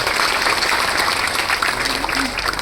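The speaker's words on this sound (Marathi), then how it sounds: "सगळ्यांनी टाळ्या वाजवून अभिनंदन करायचं" Steady, dense applause from an audience at a Datta Jayanti gathering, congratulating an honoree, continuous and fairly loud throughout with no pauses.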